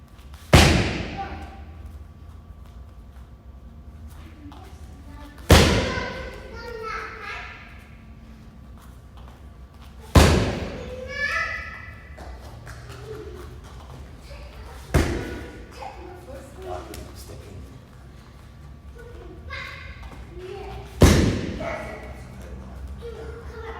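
Strikes landing on a Muay Thai heavy bag, five heavy solid thuds spaced about five seconds apart, with someone talking between the hits.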